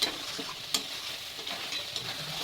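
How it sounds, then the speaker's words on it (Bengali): Masala gravy for paneer sautés in a pan, a continuous close sizzle and crackle with occasional scraping stir strokes and no speech. "এভাবে আস্তে আস্তে কষিয়ে নিতে হবে।"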